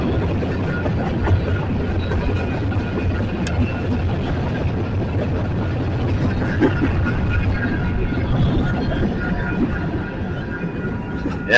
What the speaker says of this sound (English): Hey, we got another train coming.